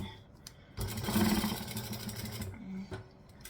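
Sewing machine top stitching in a burst of close, buzzing motor hum that starts abruptly, runs steadily for about two seconds and then stops, with talk around it.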